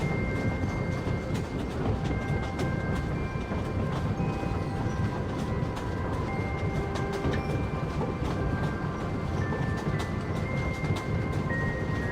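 A train in a video game rolls along its rails with a continuous low rumble and rhythmic clicking of the wheels, steady and moderately quiet with no talk over it.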